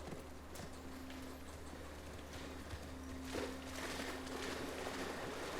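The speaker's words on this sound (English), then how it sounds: "We'll leave the horses here." Horse hooves clip-clopping at a slow walk in The Last of Us Part II, light irregular steps over a steady low ambient hum with faint rustling.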